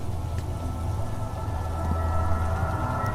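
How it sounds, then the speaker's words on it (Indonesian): Heavy rain falls in a mountain forest on Mount Slamet as a dense, steady, low roar that swells slightly near the end, with no voices. "Hujan semakin deras"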